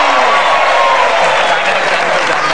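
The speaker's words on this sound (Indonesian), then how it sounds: "Tepuk tangan untuk Pempi." A studio audience on an Indonesian television comedy show applauds in a dense, loud, continuous wash of clapping and crowd noise that stays even throughout.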